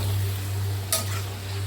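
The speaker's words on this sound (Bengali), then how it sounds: "এটা ভালো করে ভাজতে হবে। এটাকে একটু নাড়িয়ে চাড়িয়ে একটু ঢাকা দিয়ে দেবো।" Mutton with spices is stirred and fried in a covered cooking pot, giving a steady low sizzle under a constant hum, with one sharp utensil clack midway and no talking.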